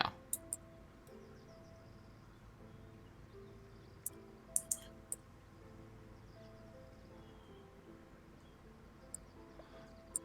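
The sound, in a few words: loud mouse or keyboard clicking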